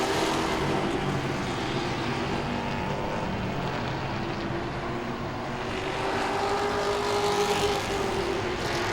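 Pepsi Grand Stock race cars circle Langley Speedway during a 40-lap night race, making a continuous, dense engine roar that swells and fades slightly as the pack passes.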